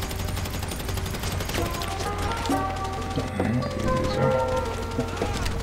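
Enemies get gunned down in a GTA Online firefight, with bursts of gunfire layered into dense game music and effects, steady and moderately loud throughout.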